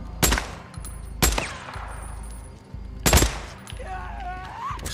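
Heavy gunfire in the Days Gone video game: loud, sharp shots in three separate bursts about a second or two apart, each one booming and then decaying, with the game's background sound continuing between them.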